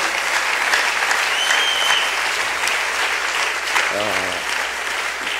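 Loud, continuous applause from a church seminar congregation fills the room in a dense, unbroken wash of clapping, with a voice briefly audible partway through.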